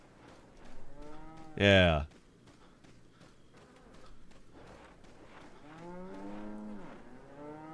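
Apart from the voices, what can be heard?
cows mooing in video game Resident Evil 4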